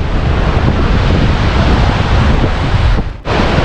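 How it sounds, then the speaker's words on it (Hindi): Strong, cold wind gusting across an open lakeside trekking trail at Chitta Katha Lake, a loud continuous roar buffeting the microphone, briefly dropping near the end before surging back. "बहुत तेज़ हवा चल रही है और बहुत ठंडी हवा चल रही है"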